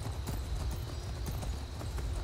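Horse hooves clip-clop at a steady trot in the Skyrim video game, a continuous rhythmic patter of hoofbeats over a low rumbling ambient bed, close and moderately loud with no talk.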